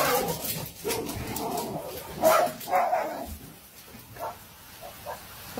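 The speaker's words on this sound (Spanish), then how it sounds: "Tu perro cuando quiere salir y no sabe que llueve." A dog whimpers and lets out short yips and barks, wanting to go outside in the rain, with several irregular close cries and pauses between them.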